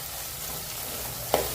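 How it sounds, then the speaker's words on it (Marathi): Ground spices, turmeric and Agri Koli masala, fry in a pan for prawn curry, giving a constant close sizzle, with a brief scrape of stirring near the end. "मिक्स करूयात"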